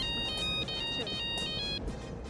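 A phone ringtone for an incoming call, a bright electronic melody of short repeated tonal pulses ringing nearby for almost two seconds before cutting off, with quiet background murmur.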